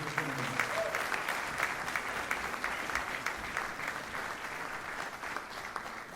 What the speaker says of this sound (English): please, one more round of applause for our vocalist